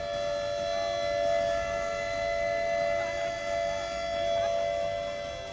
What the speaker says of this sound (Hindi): इस संकट को लेकर खतरे का सायरन बज उठा